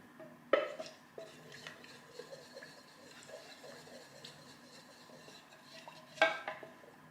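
Stirring a lip balm mixture with rosehip oil in a pot, a spoon scraping and clinking against the sides in soft repeated strokes, with two sharper louder knocks near the start and end.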